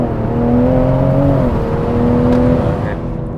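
A Mk5 Toyota Supra with its B58 engine and Supersprint OPF-delete exhaust revs on an open country lane, a loud droning tone that climbs, dips and holds, close and continuous with some wind noise.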